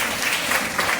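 Loud, dense applause fills a Sunday church service for a sister in the congregation, steady clapping from a crowd throughout the short burst.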